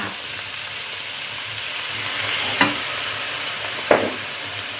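Cucumber stir-fried in a pan with soy sauce and seasoning: a steady close sizzle runs throughout, broken by two sharp spatula clicks against the pan.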